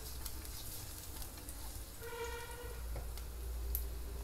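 Garlic dropped into hot oil in a pan while making a quesadilla gives a faint, steady sizzle that holds low and even throughout, with no voices over it.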